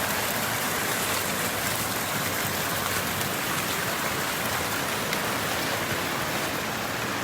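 Water churns steadily in a stream at a swimming hole, a broad continuous rushing wash that stays even and close throughout with no voices.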